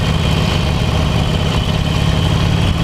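A 2018 Harley-Davidson Roadster motorcycle engine drones steadily while riding, a loud low continuous rumble with wind noise and no talk.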